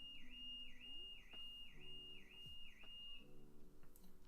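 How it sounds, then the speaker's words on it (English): A faint, distant car alarm repeats a rising and falling electronic whistle in a steady rhythm, heard from outside. "There's a car alarm."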